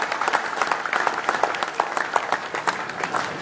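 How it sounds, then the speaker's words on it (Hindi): A rally crowd in Badshahpur, Haryana claps steadily in welcome for politician Deepender Singh Hooda, a dense, continuous burst of applause with no break throughout. "हरियाणा के भविष्य चौधरी दीपेंद्र सिंह हुड्डा जी का एक बार जोरदार तालियों से बादशाहपुर की इस ऐतिहासिक धरती पर स्वागत कीजिए।"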